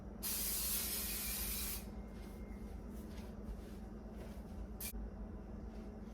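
A single sharp hiss of an aerosol cooking spray lasts just over a second, followed by quiet background noise and a brief faint hiss later.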